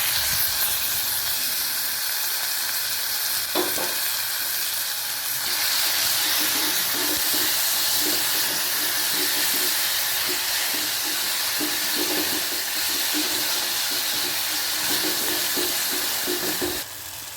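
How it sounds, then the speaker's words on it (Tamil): Garlic and chopped tomatoes sauté in a pan for dal sambar, giving a steady, loud sizzling hiss that carries on throughout with faint clinks and no talk. "அதுலேயே பூண்டு, நறுக்கின தக்காளி போட்டு நல்லா வதக்கி விடுங்க"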